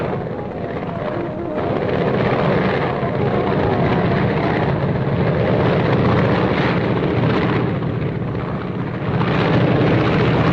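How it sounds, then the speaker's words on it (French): A 1940 airplane flight of General Noguès carrying the Sultan of Morocco in Morocco: a steady, loud propeller engine drone, continuous and close, with no voices. "le baptême de l'air que le sultan du Maroc vient de souhaiter recevoir à bord de l'avion du général Noguès"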